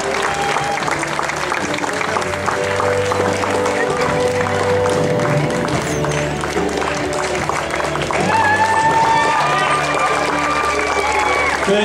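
Applause from a show jumping audience greets a rider at an outdoor Grand Prix prize-giving in South Africa, a steady, loud roar of clapping and crowd noise running throughout, with an announcer's voice over it.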